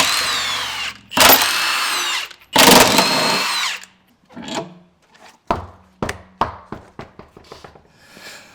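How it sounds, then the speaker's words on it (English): A lug nut holding the spare tire to the tailgate of a Jeep JL Wrangler is loosened with a 22mm socket: two long loud bursts of power-tool whirring, then a run of short sharp clicks and clanks close by. "the lug nut securing the spare to the tailgate can now be removed, and a 22mm socket will be needed for that"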